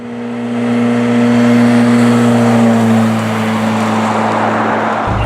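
Yugo car engine with a loud exhaust drilled full of holes, running close with a steady droning hum that swells and holds before easing slightly, no talk over it.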